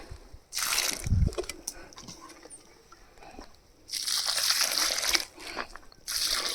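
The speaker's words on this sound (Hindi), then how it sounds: "अब मैं स्ट्रॉबेरी में दे रही हूँ पानी" Water is poured onto strawberry plants in three hissing, splashing bursts of a second or more each, fairly close, separated by quieter pauses with faint background noise.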